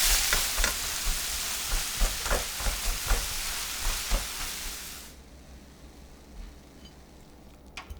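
Garlic chive stir-fry seasoned with oyster sauce and sesame oil sizzles and hisses in a pan as a spatula scrapes and stirs in repeated strokes. The sizzle drops off sharply halfway as the heat is cut, leaving faint scattered clinks.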